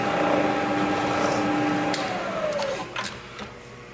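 Metal lathe cutting a slight chamfer on a metal part for a power draw bar, a steady loud whine and hum with a held tone that drops off near the end, followed by a few quieter clicks.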